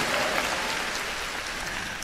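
A concert audience applauds steadily, with a dense, even wash of many hands clapping together, sustained at a constant level for a couple of seconds.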